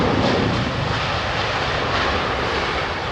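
A Japan Airlines airliner at Heathrow Airport roars steadily with a broad, loud jet engine rumble and hiss, close and continuous for a few seconds with no voices.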